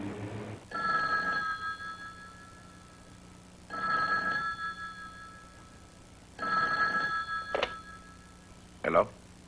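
An old telephone rings in three long bursts with pauses between, each a bright repeated bell tone, followed by two short sharp clicks as the handset is lifted, in a 1980 film.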